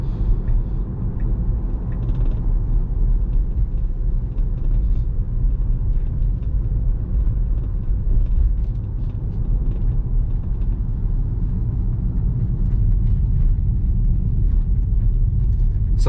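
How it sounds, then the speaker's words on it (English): A China-built Tesla Model Y accelerates, giving a steady low road rumble and cabin hum heard from inside, smooth and continuous with no engine note. "A little acceleration."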